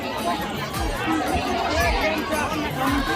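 A dense crowd murmurs and chatters at a Ravana effigy burning festival, a steady busy babble of many voices close around with occasional louder bursts.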